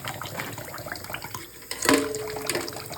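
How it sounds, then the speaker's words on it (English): Water runs from a tap over a medical instrument being rinsed by hand in a sink, a steady close splash that sharpens briefly midway as the instrument passes under the stream. "Again, you rinse it manually."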